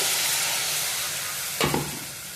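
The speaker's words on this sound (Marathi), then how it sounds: "आता हे मिक्सरच्या भांड्यातच पाणी घेऊन मी टाकते" Water poured from a mixer jar into a hot pan of fried tempering and turmeric for pithla, a gram flour dish, gives a sudden loud sizzle burst midway over a steady background frying crackle.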